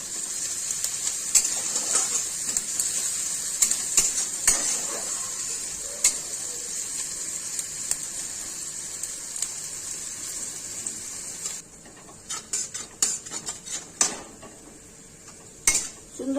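Sliced onions frying in hot oil with a green chilli in a pan, a steady high sizzle broken by repeated sharp clinks and scrapes of a utensil stirring against the metal, close and continuous.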